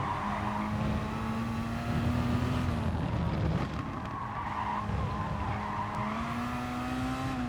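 Race cars in GT Sport at Catalunya roar steadily with a droning engine note that shifts pitch, tyres skidding and squealing as a pack of cars runs close together, loud and continuous.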